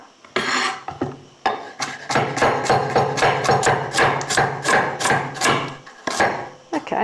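Fresh carrots chopped with a knife on a cutting board, a fast run of crisp repeated cuts with a slicing rasp, close and loud, with brief pauses between bursts.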